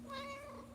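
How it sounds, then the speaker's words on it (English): A chatty porch cat gives a single short, clear meow close by, with no talking. "You're a chatty kitty."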